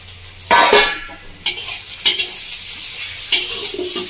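Pointed gourd and onion fry in a pan with egg, giving a sizzling hiss broken by several sharp stirring scrapes and clatters, close and fairly loud, with no talking.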